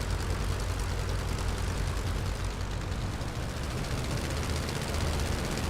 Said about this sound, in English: Hear that engine sound.